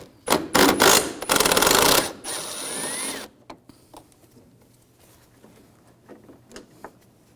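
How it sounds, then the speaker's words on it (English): A screw on a 2011-2018 Volkswagen Jetta AC condenser and receiver drier assembly is backed out with a T30 socket wrench: a burst of rapid loud ratcheting clicks, then a short grinding whir, followed by faint scattered taps and handling. "Use the same T30 socket, take this screw out."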